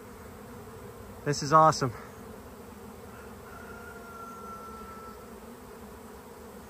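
A swarm of honey bees drones outdoors in a soft, continuous buzz, with one person briefly speaking early on and a thin, steady whine rising over the hum midway.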